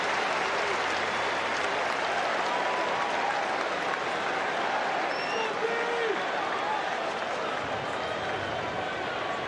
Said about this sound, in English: Nice hand from the Notre Dame crowd as well.